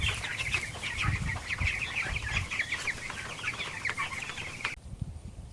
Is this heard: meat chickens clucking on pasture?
yes